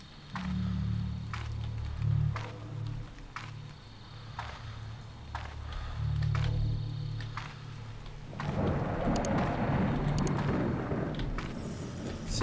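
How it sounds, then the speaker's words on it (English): Low rolling thunder rumbles beneath steady rain in the horror video game Slender Haunt, a stormy ambience with faint footstep-like taps, swelling into a louder, noisier burst of rain and wind near the end. "The lightning, the thunder."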